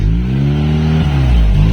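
A 4th-generation Honda Prelude with a Remus exhaust rumbles loudly at close range, its pitch rising and dipping as the throttle is worked, deep exhaust drone throughout.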